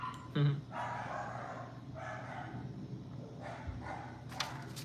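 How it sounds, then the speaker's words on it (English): A dog barks sharply once up close, followed by fainter, more distant barking in a few bursts over low background noise. "They hear another dog barking right now"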